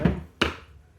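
A rubber mallet, worn and crumbling, strikes the magazine tube of a Portuguese M1886 Kropatschek rifle to knock it loose: two dull close taps, the second sharper, with a brief decay after each.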